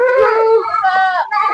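A goat bleats loudly and close by in a garden plot, giving a long wavering cry followed by a second shorter bleat.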